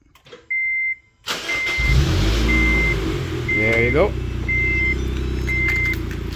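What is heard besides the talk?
2006 Honda Civic engine starting with push-to-start remote starter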